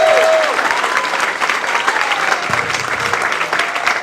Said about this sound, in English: Thank you so much for that standing ovation